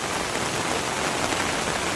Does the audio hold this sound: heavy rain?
yes